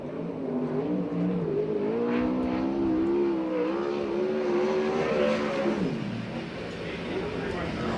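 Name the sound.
sprint car engine on the racetrack, number 7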